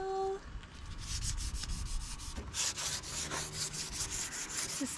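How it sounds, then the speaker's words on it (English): Wood is hand sanded before painting during a school bus conversion, with a series of rhythmic rubbing strokes, close and fairly quiet, and no talking. "Just doing some final sanding before we get to paint it."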